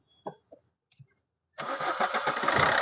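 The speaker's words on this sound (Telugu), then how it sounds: "సింగిల్ సెల్ఫ్ అయితే బండి స్టార్ట్ అవ్వడం జరుగుతుంది సార్" A 2017 Maruti Suzuki Ciaz Alpha diesel car with about 72,000 km cranks briefly and catches on the first try, then settles into a steady, loud, close diesel idle after a few faint knocks.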